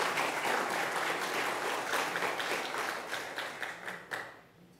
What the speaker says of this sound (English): Please give him a warm round of applause and welcome him.